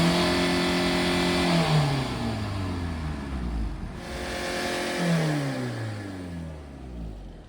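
A VW Passat B2 diesel engine revs repeatedly during an inspection smoke test, loud and close, its pitch rising and then falling in two long sweeps with no talk over it.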